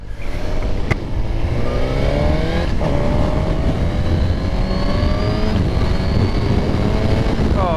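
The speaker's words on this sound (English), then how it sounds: "And now the very fun GSXR." Suzuki GSX-R sport motorcycle engine accelerating hard through the gears, a loud continuous rising whine with shifts and steady road and wind roar, close to the rider.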